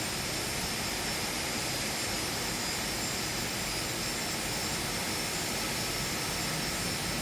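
Phenom 300 business jet taking off in the X-Plane 12 flight simulator, a steady, loud, broadband engine roar that holds evenly throughout with no voices.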